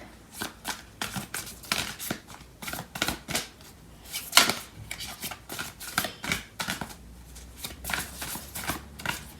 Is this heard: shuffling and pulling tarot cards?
yes